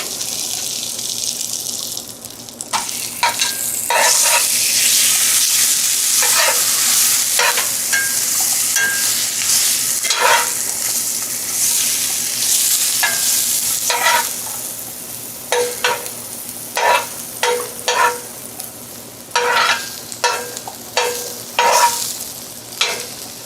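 Metal utensil scraping and stirring beef in a frying pan, with sizzling underneath; repeated sharp scrapes come in irregular bursts, growing more frequent and choppy toward the end, close and fairly loud with no talking.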